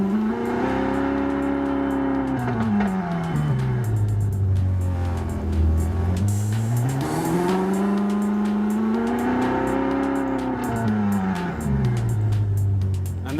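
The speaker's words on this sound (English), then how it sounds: "Select the vehicle sound that you like. It could be a Ferrari too." Simulated Ferrari engine note played by a vehicle sound app, a loud steady tone rising and falling through several rev sweeps, as if accelerating and easing off repeatedly with no talk.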